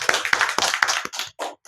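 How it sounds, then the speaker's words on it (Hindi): A few hands clap to welcome a speaker at an Ayurveda gathering, a short series of about eight crisp, closely spaced claps that thin out and fade at the end, with no voices over them. "एक बार सपना मैम के लिए जोरदार ताली।"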